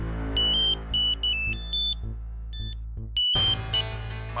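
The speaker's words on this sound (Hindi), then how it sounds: "तेरा फोन बज रहा है।" A phone ringtone plays in repeated short bursts of bright beeping tones over a low steady hum, with a brief louder rustle near the end.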